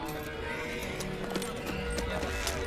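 A horse at a royal camp whinnies over steady hoof clip-clops, in a dense, busy soundscape from a Hindi-dubbed Hollywood film.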